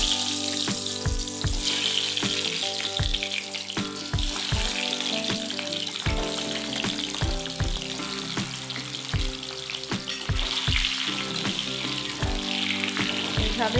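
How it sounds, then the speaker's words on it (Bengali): Eggs drop one by one into hot oil with chilli powder and cumin powder and fry with a loud, continuous sizzle. Soft, regular low thumps repeat throughout, and no one speaks. "তেল গরম হয়ে গিয়েছে, আমি এবারে এক এক করে ডিম ছেড়ে দেব।"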